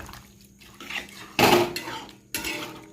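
A little water poured into a pan of jhinge and potato curry, giving a loud hissing splash that bursts up sharply, fades, then flares again, among nearby clinks of utensils against the pan.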